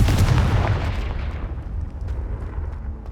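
A fiery Confringo spell blast in the video game Hogwarts Legacy, a loud booming explosion that hits at once and then rumbles away into a fading low tail.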